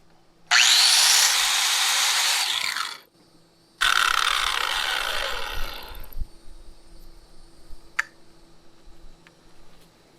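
A hand saw cuts through a small workpiece being shaped flat to sit against a large PVC pipe, two loud close sawing bursts separated by a short pause, then quiet scraping and small taps.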